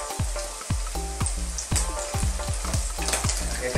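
Shrimp omelette sizzling in hot cooking oil, a steady crackling fry punctuated by rhythmic scraping strokes of a utensil against the pan, close and clear with no talking.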